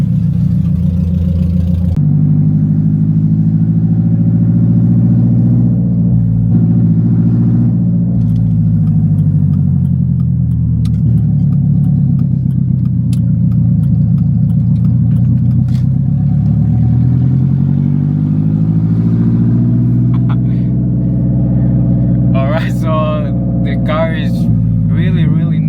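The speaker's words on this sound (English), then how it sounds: "I'm sure you can hear the car. I'm just barely giving it throttle" A car engine hums and rumbles steadily up close, rising and falling gently with light throttle, with someone talking over it.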